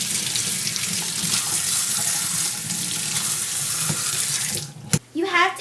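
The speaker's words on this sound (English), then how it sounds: "First thing I always do is wash my hands." A kitchen tap runs in a steady, close splashing stream while hands are washed, then it is shut off near the end, leaving brief clatter and a voice.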